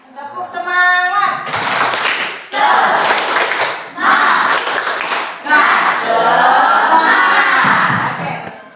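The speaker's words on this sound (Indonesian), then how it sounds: "Tepuk semangat." A classroom group of students claps in a rhythmic pattern while chanting and shouting together, several loud bursts of clapping and voices separated by short pauses.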